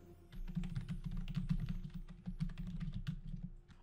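Soft, muffled keystrokes tapping quickly and steadily on a quiet keyboard, with no voices.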